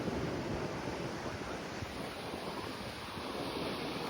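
Surf and strong coastal wind on the Dwarka shoreline near the sea, a steady broadband roar of breaking waves mixed with gusty wind buffeting the microphone, continuous and loud throughout with no talk.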